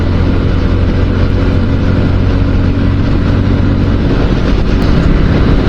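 Bajaj Pulsar motorcycle engine on the road during a long ride from Dehradun to Lucknow, a steady, close, continuous drone buried in heavy wind rush, with no voices.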